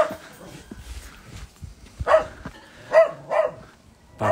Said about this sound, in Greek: Για σκυλάκι.